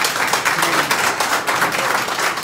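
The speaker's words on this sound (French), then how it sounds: "On l'applaudit." An audience applauds at a launch event, dense continuous clapping from many hands, loud and close, filling the whole stretch without pause.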